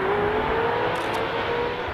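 Several four-wheel-drive JDM sports cars launch off the start of a race in a Best Motoring comparison with a Porsche 996 Turbo, giving a steady, loud engine roar with a rising whine, no talk.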